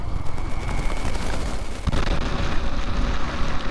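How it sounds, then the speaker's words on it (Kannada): Heavy rain pours down during a motorcycle ride near Mangalore, a dense steady hiss of rain and rushing air that holds loud and even throughout, with no voices. "ಹೆವಿ ಮಳೆ ಹೊಡಿತಾ ಇದೆ ಇಲ್ಲಿ ಮಂಗಳೂರು ಸೈಡು."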